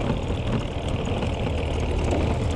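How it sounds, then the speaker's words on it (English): Tractor engine running on a rough roadworks stretch of Thai road, a continuous heavy, rumbling low drone with steady knocking texture, close and unbroken with no talk over it. "Bloody tractor."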